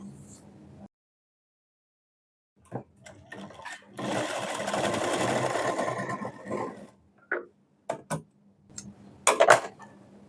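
Sewing machine stitching two joined pieces of a semi-Patiala pant along a folded edge, running in a steady buzzing burst for about three seconds, then short stop-start bursts, with a quiet gap near the start.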